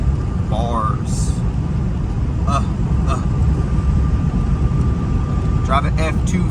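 Steady broadband road and engine drone from a Ford F250 with the 7.3 diesel cruising down a street, loud and constant, with a voice talking over it.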